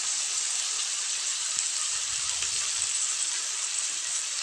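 Onions frying gently in a pan for a Maharashtrian onion and tomato chutney, a soft steady sizzle and hiss with no other sounds.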